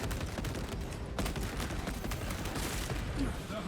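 Heavy bolt rifle fire in Space Marine 2, rapid repeated heavy shots in a continuous barrage, loud and near, with battle noise mixed in.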